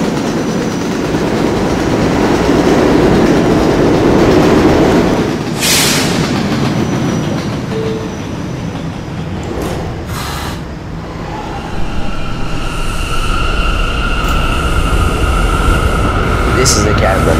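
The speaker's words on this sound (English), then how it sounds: "This is a Cadland bound D train." An R160 D subway train stands at Fairview Avenue station, its loud rumbling hum and rail noise continuous, with a brief hiss and squeal, while an automated announcement voice speaks.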